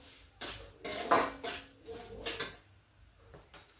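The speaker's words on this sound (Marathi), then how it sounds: "हे छान असं हलवून घ्यायचं, मिश्रण एकत्र झालं पाहिजे." A semolina sheera mixture is stirred in a pan, making several short metallic scrapes and clinks of a spoon against the pan at an uneven pace, fairly close and with no talking.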